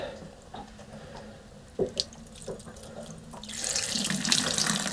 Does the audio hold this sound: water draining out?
yes